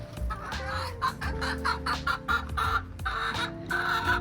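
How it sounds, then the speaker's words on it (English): Several chickens cluck and murmur nearby in short, uneven bursts, with no talking. "I have like set aside a space for our chickens to hang out"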